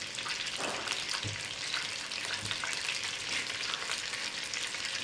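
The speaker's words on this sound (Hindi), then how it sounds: "इस तरह से एक एक पीस उठा के आपने ऑयल में डाल देना।" Chicken pieces slide one by one into hot oil, setting off a loud, dense, continuous frying sizzle with crackling bursts close up, with no talking.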